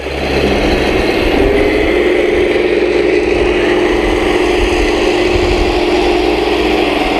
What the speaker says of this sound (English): sometimes you'll kind of hear the engine kind of rev down